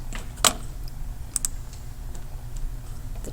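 A few sharp computer keyboard keystrokes while a title is typed into a legal research search box, spaced clicks over a quiet room background.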